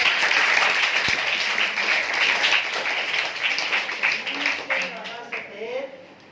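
A crowd claps steadily in sustained applause that thins out toward the end as voices start to come through.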